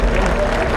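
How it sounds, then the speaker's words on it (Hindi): Applause from an audience at a Delhi BJP celebration event, a dense, steady wash of clapping from a crowd with a voice mixed in, loud and continuous through the short moment. "जोर से ताली बजाओ।"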